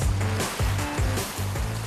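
Sea waves surging in and out over tidal rocks where wild seaweed grows, a loud, close, rhythmic wash with repeated swells and roaring foam.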